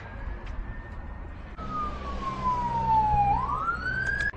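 An emergency vehicle siren, police or fire engine, wails along a road at night, sweeping down and back up in pitch, moderately distant over steady traffic rumble with no talk.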